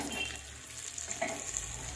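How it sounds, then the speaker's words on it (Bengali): Onions frying in a pan as khichuri is cooked in a pressure cooker, a steady broadband sizzle running throughout at moderate level, with faint stirring and no voices. "পেঁয়াজ ভাজা হচ্ছে"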